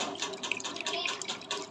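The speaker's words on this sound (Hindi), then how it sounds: "पानी ऐड करेंगे।" Water poured into a cooking pot while making kadhi for kadhi pakora: a brief, steady splashing trickle of liquid, close and fairly soft, with no voices.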